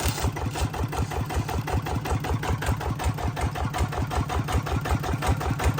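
A 155 engine motorcycle idling with a loud aftermarket racing exhaust pipe, a steady, fast throbbing pulse that stays close and constant throughout.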